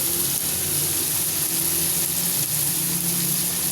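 Tomatoes and spices fry in a pan with a loud, continuous sizzle and faint stirring, close up with no voices.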